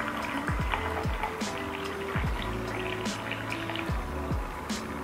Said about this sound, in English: Let's pour our water.